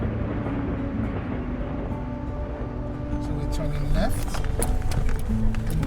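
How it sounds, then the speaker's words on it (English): A train thunders past on a road journey through forest country, a loud continuous rumble and roar that swells slightly toward the end, with a voice speaking over it. "once again, a train thunders past"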